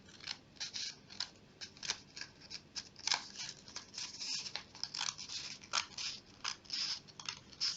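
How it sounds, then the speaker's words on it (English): Scissors making a lengthwise cut along blood vessels, a steady series of close, soft snipping crunches, roughly two or three per second, in a quiet room. "So first we can make a longitudinal cut along the blood vessels"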